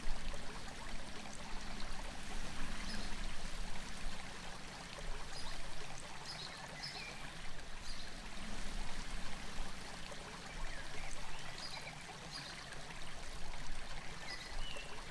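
Water from a fountain in a Persian garden courtyard trickles and splashes steadily and softly, a continuous hiss of running water with no other sound.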